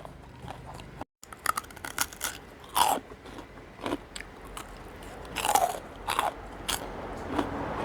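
Crispy, puffy pork rinds are bitten and chewed up close, giving several sharp crunches with loud crackling bites and softer chewing between them, with no speech.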